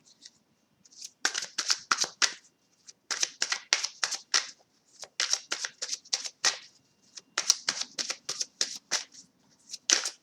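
Oracle cards shuffled for a tarot-style reading, giving repeated crisp riffling bursts in several quick runs separated by brief pauses, close and clear with no talking.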